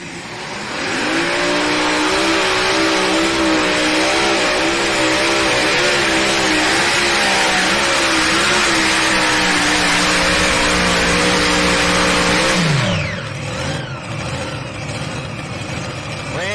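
Tractor-pulling competition machine at a national championship roars under sustained load for about twelve seconds, its engine pitch wavering and climbing, then cuts off sharply, leaving a fading whine and crowd-level background.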